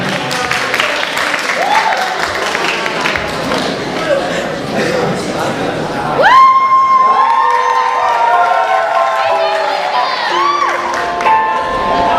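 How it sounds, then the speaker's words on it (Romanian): A school crowd at a freshman ball cheers, whoops and claps loudly for a student singer, the noise swelling into a burst of shouting partway through. "Haideți să aplaudăm și să o ascultăm."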